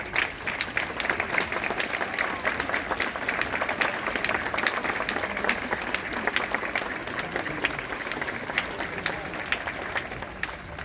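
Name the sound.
children clapping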